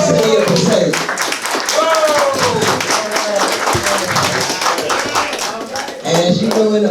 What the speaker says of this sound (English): Roger, please stand because we want to give him a round of applause.